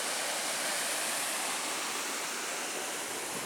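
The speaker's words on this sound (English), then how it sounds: "One thing I'm noticing is a lot more water flow this morning" River swollen after a night of heavy rain in the Porcupine Mountains, roaring as a steady broadband rush of fast-flowing water, constant and enveloping with no other sounds.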